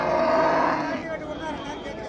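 Cattle low amid the crowd noise of a busy livestock market in Erode's Karungalpalayam, where native cows are traded, with a dense wash of nearby chatter and voices throughout.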